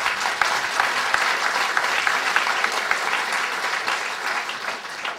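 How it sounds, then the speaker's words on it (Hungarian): Steady, even audience applause from a seated crowd at an evening talk, dense clapping that holds at a constant level for several seconds without any speech over it. "azt hiszem megérdemel egy tapsot"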